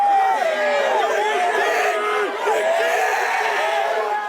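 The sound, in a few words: racecourse crowd cheering horses at Royal Randwick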